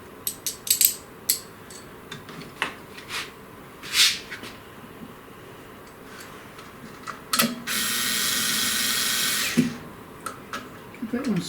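Small screws are fastened by hand into the aluminium frame of a SainSMART Genmitsu PROVerXL 6050 Plus CNC router kit, with close scattered metallic clicks and taps and a brief steady whir midway.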